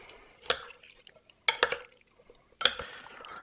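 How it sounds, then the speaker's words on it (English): A cucumber salad dressed with vinegar being stirred in a bowl, three quiet separate clusters of sharp clinks and wet scrapes from the utensil against the bowl, with near silence between them. "Mix it well."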